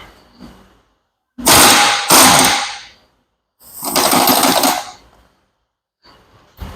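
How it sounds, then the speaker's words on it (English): A 3/4 inch drive impact wrench with an 1 1/8 inch socket hammers a piston nut off a New Holland skid loader hydraulic cylinder rod, in three loud rattling bursts separated by short silences. "Got an 1 1/8" socket, 3/4 inch drive impact, and I'm gonna run this piston nut off."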